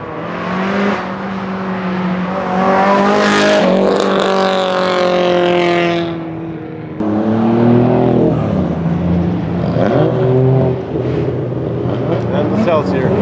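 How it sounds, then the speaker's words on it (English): Drift cars on the Gunsai touge mountain road in Japan, engines revving hard with rising and falling harmonic whines as a couple of them pass close by. Voices can be heard underneath. "Here comes a couple more cars."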